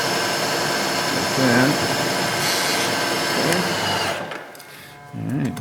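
A small drill bit cuts a little countersink for a pressure equalization valve, making a steady motor whir with a rising and falling whine that eases off near the end, while a voice speaks briefly.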